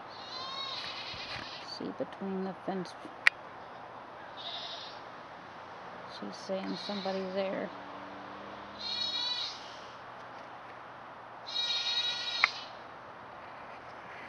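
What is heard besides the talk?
baby goats bleating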